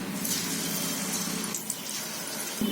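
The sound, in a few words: papaya gulgule batter dropped into hot oil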